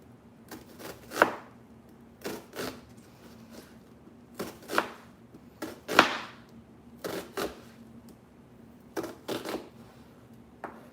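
A knife chops half an onion on a cutting board in irregular bursts of quick, crisp strokes separated by short pauses, close and fairly loud with no voices.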